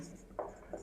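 Chalk or a marker scratches on a board in two short, faint strokes within less than a second, quiet and close.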